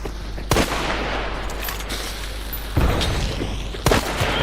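Grenade blasts and gunfire in the video game Hunt: three sharp, loud bursts land about a second or more apart over a steady rumbling battle background, with no talk.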